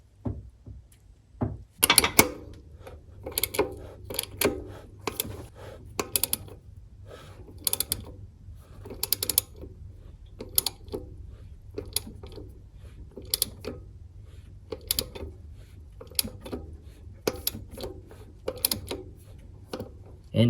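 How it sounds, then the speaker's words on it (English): A ratchet turns the harmonic balancer on a Toyota Camry 2.2L engine clockwise, giving irregular bursts of quick metallic clicks with pauses between strokes, close by. "all we're doing is turning this harmonic balancer to a point where we align this harmonic balancer"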